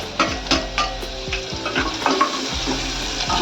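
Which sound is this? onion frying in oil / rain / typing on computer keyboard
onion frying in oil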